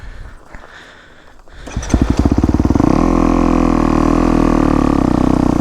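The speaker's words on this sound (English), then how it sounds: "just be a little bit slower with the clutch release as you're shifting down. So I'll do it right now." A 4-stroke dirt bike engine shifting down, quiet at first, then revving up into a loud, close, steady putter.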